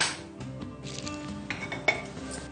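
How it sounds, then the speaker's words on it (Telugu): A metal kadai (wok) set down on a stovetop, giving a few clanks and light metallic clinks over a steady low kitchen hum, with one sharper knock near the end. "కడాయి పెట్టుకొని స్టవ్ ఆన్ చేద్దాం"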